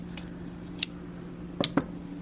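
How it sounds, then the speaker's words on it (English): A few quiet, crisp snips of scissors cutting sari silk yarn, spaced irregularly over a low steady hum. "I'm gonna try some different scissors."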